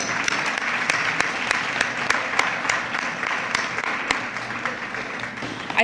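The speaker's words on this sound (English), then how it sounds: "Let's give you all a big round of applause right here at the beginning." A school awards-night audience applauds in a steady, dense wash of clapping that holds loud and even throughout, with no voices over it.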